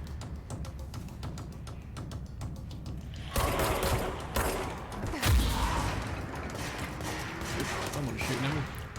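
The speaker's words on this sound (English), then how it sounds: "Someone's shooting at me." Enemy gunfire from mind-controlled security agents in the video game Control, rapid bursts of shots with a heavy impact thud, loud over a steady game background.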